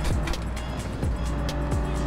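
A Toyota Supra race car in Gran Turismo roars at steady high revs, with tire squeal and periodic sweeping whooshes of passing cars over a continuous loud engine drone.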